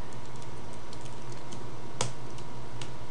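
Typing code on a computer keyboard, a steady run of light key clicks at close range with one sharper, louder keystroke partway through, with no talking.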